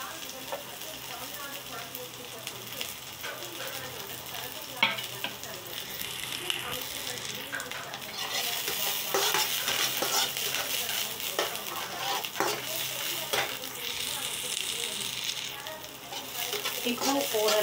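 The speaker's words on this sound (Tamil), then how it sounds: "வெங்காயமும் வதங்கி எடுத்து பீன்ஸ் பொரிகளை நான் வதக்கிட்டுக்கிறேன்." Onions and beans, cooked in a pan with mustard seeds, urad dal and curry leaves, sizzle steadily close up while being stirred, with occasional utensil scrapes and a voice talking over the frying.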